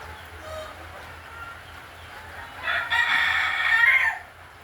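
A rooster crows once, loud and drawn out, over a quiet background with a low steady hum.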